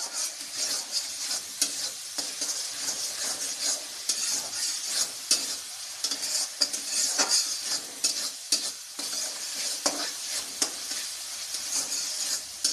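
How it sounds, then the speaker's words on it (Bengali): Masala spices fry in hot oil in a pan for a paneer chicken curry, a steady close sizzle with scraping stirs and frequent spoon clicks throughout, no talking. "মশলাটা ভাজা হয়ে যাক"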